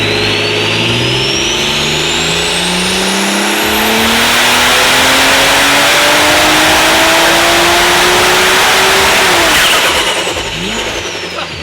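A turbocharged built car engine revs hard under heavy boost and climbs in pitch for several seconds, loud and close, then lets off abruptly with a whoosh.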